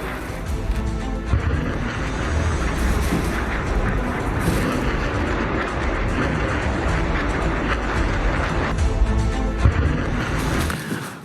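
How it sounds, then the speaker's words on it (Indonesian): Mortar bomb explosions in a South Lebanon attack come through as a continuous heavy, booming rumble of blasts, loud and dense with no clear gaps, and no voices over them. "Pejuang Hizbullah kembali melakukan serangan menggunakan bom mortir ke Zionis Israel ke Lebanon Selatan."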